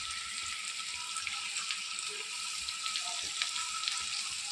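Chopped onions fry in a pan with a soft, steady sizzle that hisses evenly throughout, quiet and close, broken by a few faint clicks.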